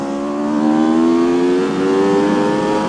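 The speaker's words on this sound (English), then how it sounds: "Stock exhaust sounds awesome on this bike, man." A 2021 Aprilia RSV4 liter bike with stock exhaust at Laguna Seca holds a loud, steady, high-pitched engine wail, sustained and close, with no talking.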